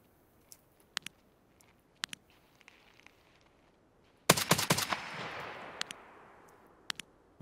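Gunfire in Escape From Tarkov: scattered sharp, fairly distant single shots, then a sudden close burst of rapid fire trailing off into a long echoing tail, followed by a few more isolated cracks.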